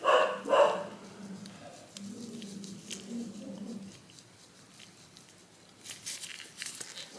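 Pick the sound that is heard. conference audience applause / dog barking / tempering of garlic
dog barking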